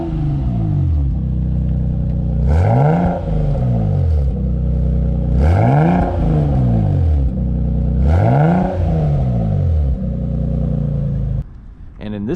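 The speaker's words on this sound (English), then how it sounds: "we installed this brand new HKS catback exhaust on my wife's Supra" A MKIV Toyota Supra with an HKS catback exhaust revs three times in an even rhythm, each rev a loud, close swell that climbs and falls back to a deep idle.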